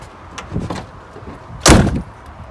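A large door on a 1978 Ford LTD Landau, a big American sedan, closes with one heavy, solid thump up close, after a softer handling sound.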